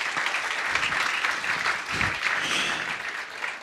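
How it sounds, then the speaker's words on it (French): An audience claps steadily through the whole stretch at a French business talk on retail data, a dense, even patter that holds at one level without a break. "On peut les applaudir"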